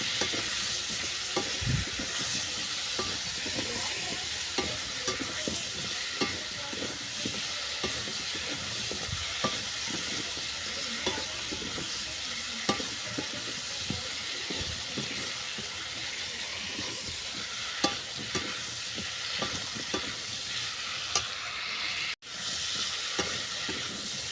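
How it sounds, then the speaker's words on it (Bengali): Vegetables are sautéed with mustard and radhuni paste and other spices in a pan for a stalk chorchori, giving a steady low sizzle with frequent spoon-stirring scrapes throughout, close and unaccompanied by talk. "এরপর সমস্ত মশলার সঙ্গে সবজিগুলোকে ভালো করে কষিয়ে নিচ্ছি"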